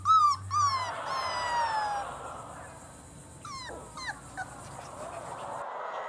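High, thin whimpers and squeaky cries from a newborn puppy, several short rising-falling yelps, close and fairly soft against a quiet background.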